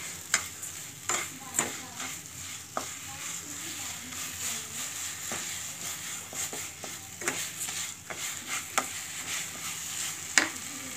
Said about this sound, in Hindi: और मिक्स कर लेंगे इसको अच्छे से।